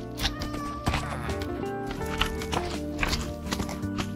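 A horse in the video game Minecraft, with soft clip-clop hoof steps and faint animal noises over steady tonal in-game background music.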